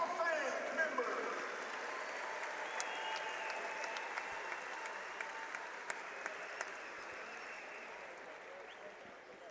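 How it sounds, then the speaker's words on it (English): Sustained applause from a large crowd at a high school wrestling championship, steady clapping filling the whole stretch without pause, with scattered voices underneath. "a nice round of applause for your Oregon Wrestling Hall of Fame members"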